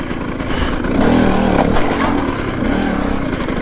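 A TM EN300Fi motorcycle engine runs loud and close with a steady roar that swells briefly as the throttle is blipped, then settles back.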